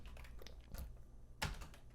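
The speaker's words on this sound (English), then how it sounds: "then we're going to type in Ethernets" Quiet computer keyboard typing, a few soft uneven clicks with one firmer keystroke near the end, close by in a hushed room.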